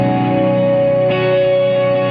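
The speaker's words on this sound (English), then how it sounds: "I can add the EHX Holy Grail reverb. And that is set to the hall setting" Electric guitar played through an EHX Holy Grail reverb pedal on its hall setting with reverb at about noon, a loud sustained tone hanging in a long washy tail, with a fresh note entering midway.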